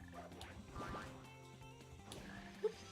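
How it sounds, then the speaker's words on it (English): Faint croaking frog calls in the Sonic Heroes video game, a few low glides amid quiet background game sounds, with one brief sharper blip near the end. "We have to avoid getting seen by the frogs."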